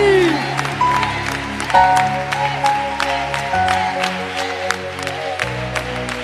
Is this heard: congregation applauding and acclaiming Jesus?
yes